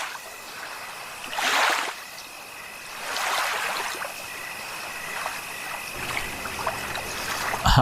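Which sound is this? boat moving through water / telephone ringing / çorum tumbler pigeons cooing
boat moving through water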